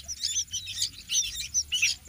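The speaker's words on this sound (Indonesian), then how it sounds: "Ini adalah burung kadasi." High, thin chirps from a young kadasi bird, repeated in quick bursts with short gaps, fairly close and heard alone.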